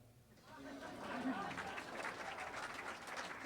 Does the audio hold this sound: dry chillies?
no